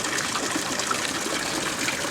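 An outdoor water fountain behind a large church in Ljubljana, Slovenia, gives a steady, close rush of splashing water that holds at an even level throughout.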